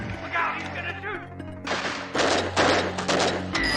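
Gunfire from the 1986 film Short Circuit, a burst of loud, rapid shots in the second half that follows a stretch of music and voices and continues to the end.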